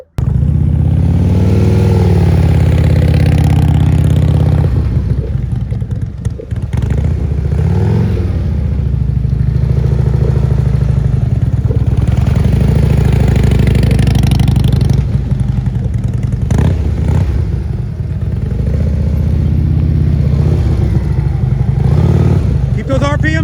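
Harley-Davidson CVO motorcycle engine held at raised RPM through slow-speed turns, a continuous close, loud rumble with slight swells as the throttle is worked, someone talking over it much of the time.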